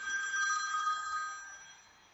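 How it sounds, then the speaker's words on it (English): A phone ringtone plays from a phone as a sound effect, a faint trilling ring that sounds for about a second and then fades out, with no voices. "why don't I just play my phone ring?"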